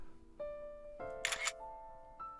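A single crisp camera shutter snap from the game Criminal Border, close and clear, set against sustained soft synth tones and quiet background music, no talking.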